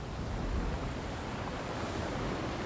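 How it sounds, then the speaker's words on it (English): Steady rushing water and surf fill the clip, a constant broad roar with wind noise and no distinct breaks or voices. "He is met only with the sound of water crashing against the trees"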